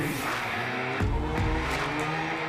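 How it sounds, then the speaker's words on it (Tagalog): Race cars roaring on a racetrack during a circuit championship event, loud continuous engine noise with passing surges and tire squeal, no talk. "rinig na ang malakas na tunog ng mga sasakyan at hiyawan ng mga racing fans"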